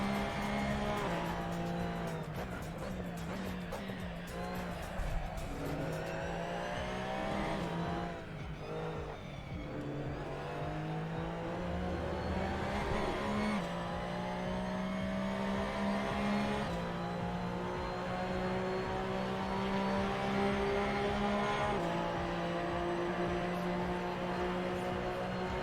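Race car engine revving and shifting through gears with occasional tire squeal in a racing video game, a continuous loud, close drone that rises and falls in pitch with acceleration and braking throughout.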